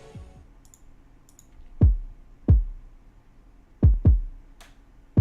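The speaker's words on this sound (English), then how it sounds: "For the drums, I have a top end kick and a bottom end kick." Layered top-end and bottom-end kick drums thump together in a sparse beat: five deep, punchy hits with quick pitch drops, irregularly spaced, loud and alone with faint clicks between them.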